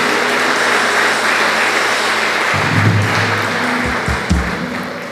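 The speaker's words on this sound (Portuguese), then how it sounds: "Dê uma salva de palmas ao Senhor por essa palavra." A church congregation claps together during a worship service, a dense, steady patter that fills the room throughout, with low sustained tones and a few soft thumps underneath.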